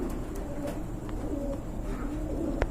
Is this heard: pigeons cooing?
yes